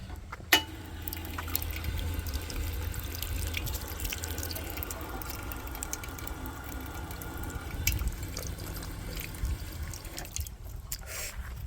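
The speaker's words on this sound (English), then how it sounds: "Oh, there's a drinking fountain. Let's see if the water's cold." Water runs from a park drinking fountain in a continuous splashing trickle with a sharp knock near the start, steady throughout under faint outdoor background noise.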